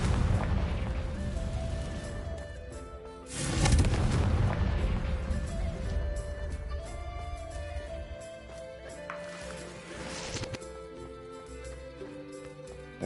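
The Confringo fire spell is cast in the magic adventure game Hogwarts Legacy, and a deep rumbling explosion erupts and fades. A second, smaller blast follows later, under light game music.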